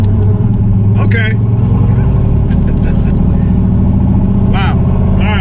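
A Foxbody car roars down a drag strip in a loud, sustained acceleration pass, its engine a heavy continuous rumble with a few shouts and cheers from onlookers over the top.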